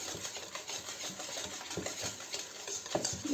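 Rhythmic swishing strokes of a spoon stirring a thick dough mixture with a little oil in a bowl, close and steady for a few seconds.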